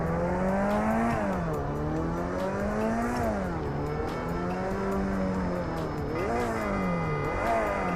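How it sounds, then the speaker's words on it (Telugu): A car engine in a video game drives continuously, with loud, close, rising and falling revs as it accelerates and eases off over steady road noise. "ప్రియా, వచ్చి కార్ ఎక్కు, నీకోసం కార్ తెచ్చాను"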